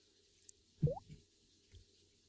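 A person imitates a single water drop by flicking the side of their mouth, making one soft, hollow plop with a faint rising pitch, followed by a weaker echo-like blip, close but quiet over a low hum.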